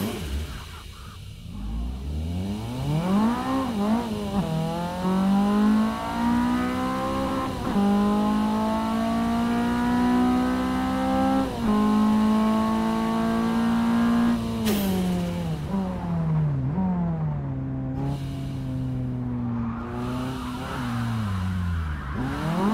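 Cars rev and accelerate in a video game's free roam mode, with a loud engine tone that rises and falls in long sweeps, then tires squeal and skid near the end, and no talking.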